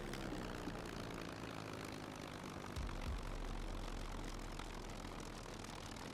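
A propeller plane engine drones in the survival game SCUM, a steady, loud mechanical hum that fills the whole stretch with no voices.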